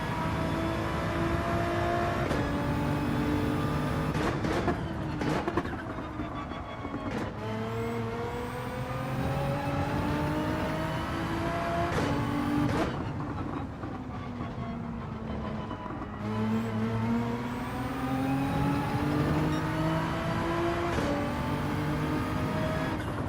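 Nissan GT-R race car engine in Gran Turismo 7, racing in wet, low-grip conditions with a BMW ahead, a steady loud engine drone with rising and falling gear-change sweeps that runs continuously throughout.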